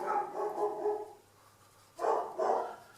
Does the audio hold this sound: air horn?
no